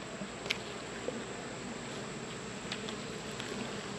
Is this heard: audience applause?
no